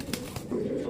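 A big Iranian silver racer pigeon coos in low, throaty pulses close by, repeated a few times in a quiet space.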